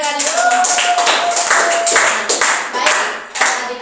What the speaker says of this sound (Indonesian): Tepuk tangan dulu untuk adik-adik semua.